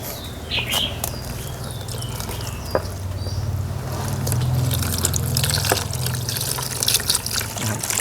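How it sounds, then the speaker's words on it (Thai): A spray of water washes soil and sand off the roots of a ZZ plant, making a steady splashing trickle with drips and a few sharp taps, while someone talks quietly now and then. "ล้างทรายออกให้หมดเลยนะครับ ล้างดินล้างทรายออกให้หมดเลย นี่นะครับเราฉีดล้างแล้ว"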